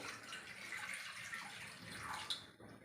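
Water runs steadily into a vessel being put on to heat, a continuous splashing pour with a small clink near the end, no voices.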